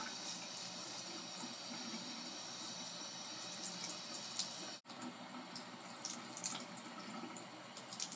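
Tap water runs steadily over clear plastic retainers as they are rinsed by hand at a sink, giving a continuous close hiss and splash for the whole stretch with one momentary break and no talking.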